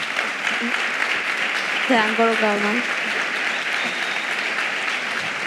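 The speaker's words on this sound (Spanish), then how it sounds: "Quiero pedir un fuerte aplauso" Sustained audience applause fills the room at a diabetes conference event while someone speaks over it through a microphone.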